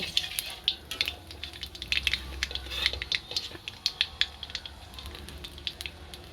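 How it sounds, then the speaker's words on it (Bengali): Two bay leaves and nigella seeds crackle and spit in hot oil as a tempering for a rohu fish curry, a dense run of small sharp pops over a steady low sizzle, close and fairly quiet. "এবার এই তেলে আমি ফোড়ন দিয়ে দেবো 2টো তেজপাতা আর দিয়ে দেবো কালো জিরে"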